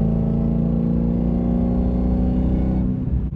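A 2023 Dodge Demon 170 engine roars loud and near in a steady, sustained drone, holding for a few seconds before easing off slightly at the end.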